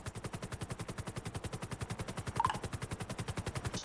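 In a GTA roleplay video game, automatic gunfire rattles in a fast, steady stream of evenly spaced shots, sustained and fairly loud throughout with no speech.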